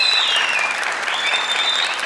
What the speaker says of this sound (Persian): کلش هم تشویق کرد